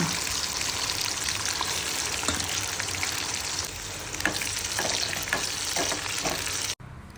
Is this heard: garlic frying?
yes